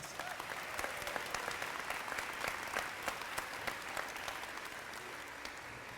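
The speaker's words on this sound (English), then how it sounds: "So let's give her a big round of applause." Crowd at a school girls' program grand opening gives a sustained round of applause, a fairly distant, even wash of many hands clapping with no talk over it.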